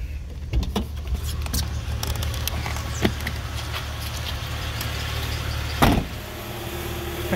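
A 1999 Jeep Cherokee XJ two-door engine idling close by, a steady low rumble with occasional clicks and a brief thump, no talking.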